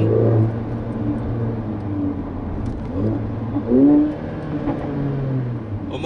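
2016 Mercedes-AMG A45 4Matic hatchback engine revving in Sport Plus mode, a deep rumble that rises and falls through several revs with a sharper burst near the middle, heard from inside the car.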